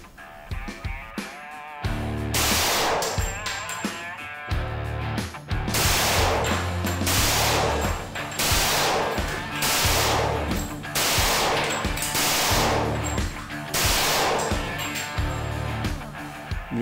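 Pistol shots at an outdoor shooting range from a Taurus 1911 or Beretta 92X, a dozen or so sharp loud cracks fired in a steady rhythm about one per second, each with a short ringing echo.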